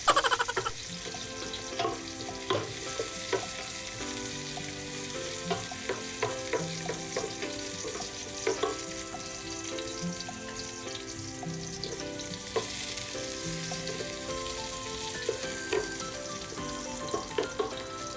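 Garlic and onion sauté in a pan as the first step of sinigang, a soft continuous sizzle broken by frequent utensil clinks and scrapes against the pan, nearby and moderately quiet, without speech.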